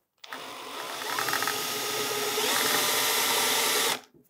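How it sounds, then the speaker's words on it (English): A power drill whines steadily for about four seconds, its motor pitch shifting slightly as the bit grinds out screws on a Ghostbusters proton pack prop, close and loud with no talking. "I think a drill bit should do the trick"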